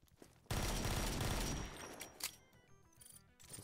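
Rapid burst of gunfire from a pistol in the Project Brutality mod for Doom, loud and dense for about a second, then fading into scattered quieter impacts and game noises.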